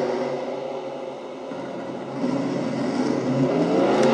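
Engine of Wes Riddle's Dodge Challenger race car at a track, a rough, wavering mid-range drone that sags and then builds again as the car restarts and pulls away.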